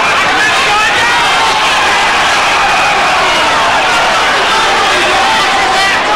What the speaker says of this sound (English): Crowd at this point overreacting every time Ben gets close.